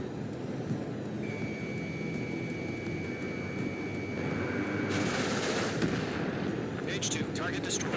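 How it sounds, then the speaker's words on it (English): Anti-aircraft gunfire in the Ace Combat 7 video game: a steady, dense roar of battle noise that swells into heavier, rapid bursts of fire over the second half, with a jet-like whine running underneath. "Fire the AA!"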